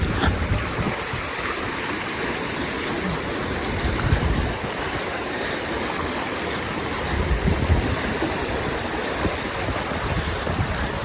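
A creek flowing through a wooded bottomland pasture in Pennsylvania, a steady broadband rush and gurgle of water heard close and continuous, with no voices over it.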